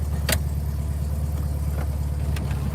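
A Volkswagen engine, freshly degreased and still awaiting carburetor adjustment, runs at a steady idle close by, its low mid-pitched drone continuous throughout with a couple of faint metallic clicks over it.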